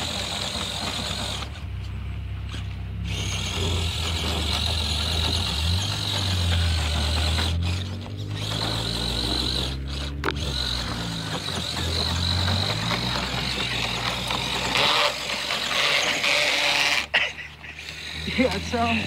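A Gatekeeper IFS truck driving in snow gives off a continuous droning, whirring drivetrain noise from a damaged, plastic-sounding drive shaft, rising and falling in pitch with speed, with people talking over it.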